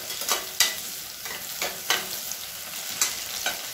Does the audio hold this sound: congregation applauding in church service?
no